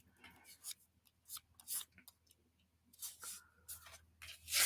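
A paper card layer is trimmed close up, soft scraping and snipping strokes coming in irregular bursts, quiet and alone.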